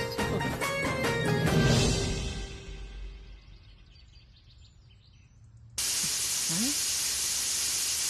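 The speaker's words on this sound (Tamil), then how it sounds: "ஐயோ, குக்கர் விசில் அடிக்குது." A pressure cooker on a kitchen stove suddenly lets out a loud, steady, high-pitched hissing whistle of escaping steam, which starts abruptly after background music fades away.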